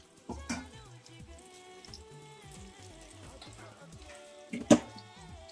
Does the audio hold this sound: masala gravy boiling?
yes